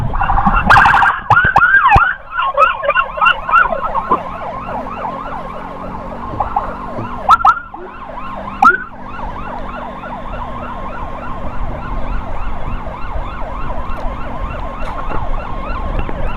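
An ambulance siren wails steadily in a repeating rising-and-falling pattern, loud and close, over road traffic noise during a motor escort, with brief louder blasts near the start and middle.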